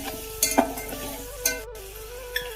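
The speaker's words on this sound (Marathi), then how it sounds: "कांदा, टोमॅटो तर तेलात ना चांगला तर परतून घ्यायचंय." Onion and tomato with salt and fresh curry leaves being stirred and sautéed in hot oil, a soft steady sizzle broken by a few sharp clinks of a spoon against the pan, close and moderately quiet.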